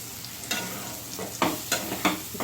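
Chopped tomatoes tossed into frying onions in a pan, a low background sizzle broken by several sharp stirring scrapes and clatters in an uneven rhythm, up close and without speech.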